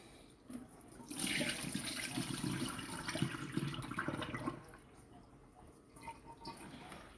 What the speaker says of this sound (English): So now you got a bucket of fish that we're gonna drain and re-add water to.